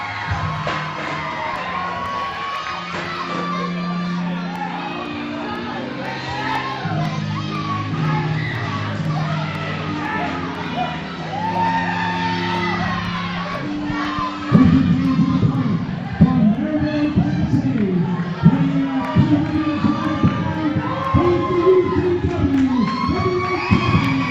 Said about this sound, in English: Oh, you hear the roar of the crowd for the King.